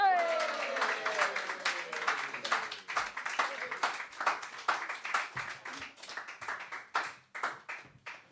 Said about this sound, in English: Could you please whoop and cheer for Tom Kitching and Marit Falt?